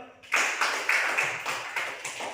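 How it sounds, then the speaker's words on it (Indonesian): Applause for group 3 in a classroom, a few seconds of steady, fairly close clapping from a small group with a rhythmic pulsing feel and no talk over it. "kita beri aplaus untuk kelompok 3 dulu"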